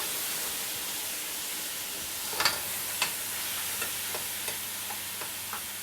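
Onions sizzle steadily in a pan for a Réunion-style prawn curry, a constant close frying hiss broken by a few soft stirring clicks and scrapes.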